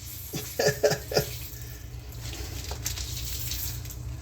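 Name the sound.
water squeezed out of a bag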